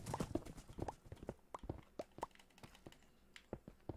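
Horse hooves clip-clop in Minecraft Bedrock, a steady run of quick, fairly close hoofbeats with an even rhythm, with no talk over them.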